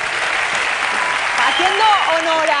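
Studio audience applause on a Spanish television show, a steady wash of clapping that carries on under a voice speaking over it.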